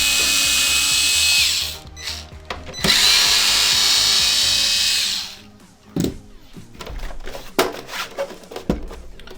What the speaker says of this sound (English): we're going to unscrew the two back screws here that hold the case together